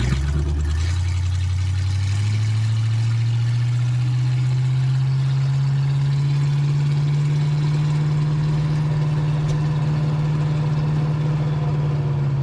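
A 1980 Camaro, back on the road after a decade with a freshly sorted carb and gas tank, pulls away in first gear, its close, loud engine droning steadily as the revs climb slowly and then hold, with no talking.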